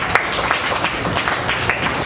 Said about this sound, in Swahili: Hebu mpe Yesu makofi mtukufu.